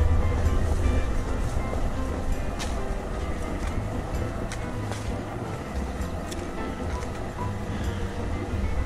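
Ocean waves wash onto a Bermuda beach, a steady broadband rushing surf heard from a distance, with scattered footsteps and light clatter mixed in during a walk toward the shore.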